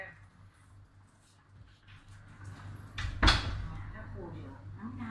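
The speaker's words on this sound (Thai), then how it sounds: "ปิดประตู" A door in a home swings shut with a single clunk near the end, against a quiet room hum and faint background sounds.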